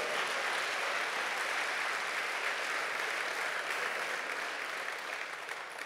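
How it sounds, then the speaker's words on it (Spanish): A church congregation claps together in dense, sustained applause. The sound holds steady and full for several seconds and thins slightly toward the end. "Alguien diga amén y dele palmas al Señor por eso"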